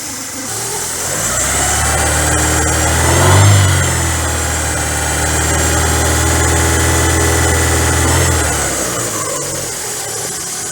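A Vauxhall Cavalier Mk2 with an S16SH engine, misfiring, runs loud and close at idle with a rough, uneven throb, briefly swelling in revs before settling again; no speech.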